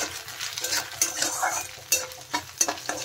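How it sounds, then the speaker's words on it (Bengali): Ginger fries in ghee for a Bengali moong dal sukto tempering, a crackling sizzle broken by repeated scrapes and clinks of a spoon stirring against the pan. "দিয়ে দিলাম ঘি, ভালো করে ভেজে নেব।"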